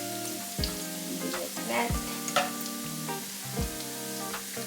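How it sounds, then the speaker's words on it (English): Onions frying in oil, a soft steady sizzle with a few stirring clinks, a short spoken remark and tonal background sounds layered over it. "Now we're gonna put the onions. We're gonna fry it a little bit until it's golden brown."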